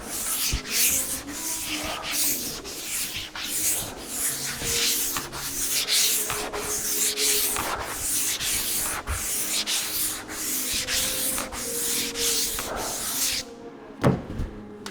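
Long, rhythmic strokes of a longboard sanding block rubbing across primed bodywork on a Smokey and the Bandit tribute truck, each pass a steady abrasive swish about every half second, close and fairly quiet, ending abruptly with a couple of knocks.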